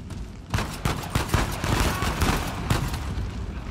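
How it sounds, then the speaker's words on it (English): Rapid gunfire from several enemies in Uncharted 4 comes as dense overlapping bursts of shots, loud and close, forming a continuous fusillade for a few seconds. "they're like four of them shooting at me"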